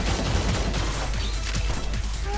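Rapid gunfire in the Blue Archive game during a grand raid boss fight against Hieronymus, a dense continuous clatter of shots layered over busy game sound effects.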